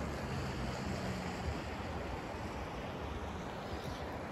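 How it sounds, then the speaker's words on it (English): Gore Creek in Vail flowing steadily, a dense, even rush of water filling the whole stretch without breaks, close and fairly loud, no voices. "there's the creek over here"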